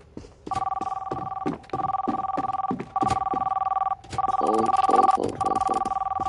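Telephone ringing inside a Roblox game: a steady two-tone electronic ring sounds in repeated bursts with short gaps, loud and close, while faint speech-like sounds appear under it.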